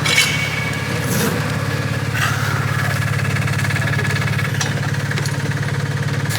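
A car engine idles steadily up close during a French roadworthy emissions test, giving a constant low rumble with small metallic clicks and a faint hiss, and no one speaks.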